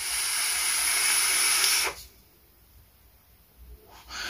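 A VandyVape Phobia RDA vape gives off a loud, close, steady vapor hiss for about two seconds and then cuts off. A fainter hiss starts again near the end.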